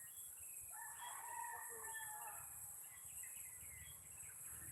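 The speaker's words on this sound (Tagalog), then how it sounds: "Mga manok." A rooster crows in the distance with chickens clucking faintly in a rural province, under a steady high-pitched hiss and low background rumble.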